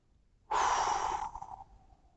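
A person breathes out during a pelvic exercise, a single long, close, breathy exhale that fades gradually near its end.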